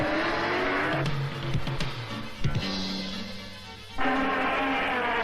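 Engine of a Ford Escort XR3 sports hatchback running and revving, with a loud, shifting mechanical roar that rises and falls over several seconds and has sharp bursts of acceleration.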